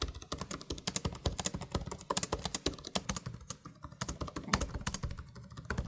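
Rapid, crisp keystrokes clatter steadily on an Asus ProArt P16 (2025) laptop keyboard, close and fairly quiet, each press a short tap in a fast continuous rhythm.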